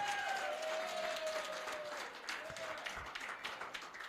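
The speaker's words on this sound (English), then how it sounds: "I want you to give Ambassador Marks a big round of applause." A council meeting audience gives Ambassador Marks a steady round of applause, dense clapping sustained for the full stretch at moderate loudness, with a faint tonal whine drifting underneath.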